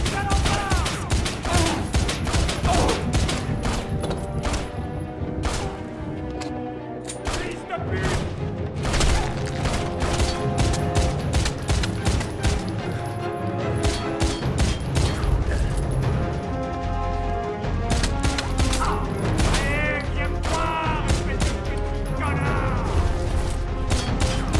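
Gunfire from a shootout with an enemy in the video game Stranglehold rattles on almost without a break, dense loud bursts over a busy game soundtrack, with a player's voice talking under the noise.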